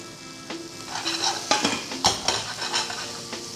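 Potatoes frying and being stirred in a pan over low heat, with soft sizzling under a series of sharp utensil scrapes and clinks against the pan, close and fairly quiet, with no talking.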